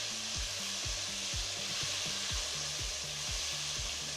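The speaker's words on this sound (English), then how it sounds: "that's when I added 2 large tomatoes that I had diced into about half-inch sizes" Diced tomatoes go into a frying pan and cook with a loud, continuous hiss of sizzling. A low rhythmic musical pattern plays steadily underneath, and no voices are heard.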